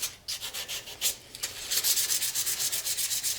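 Abrasive sanding of an acrylic pen blank spinning on a lathe, the sandpaper held at an angle: steady rhythmic rubbing strokes, close and continuous, growing busier and more even toward the end with no talking.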